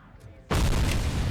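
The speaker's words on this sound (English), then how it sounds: "Well, I'm not standing next to that grenade." Grenade explosion in the video game RoboCop Rogue City, a sudden loud close blast that cuts in after a quiet moment and rumbles on to the end.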